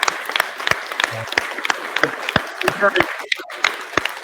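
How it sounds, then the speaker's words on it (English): Scattered, uneven clapping from a small group, thin rather than a full ovation, with someone talking over it. "give you a massive round of applause"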